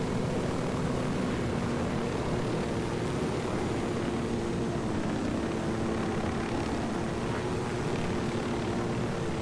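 A helicopter flying in the video game Ghost Recon Wildlands gives a steady, loud rotor and engine drone with a low harmonic hum that holds evenly for the whole stretch, with no talking over it.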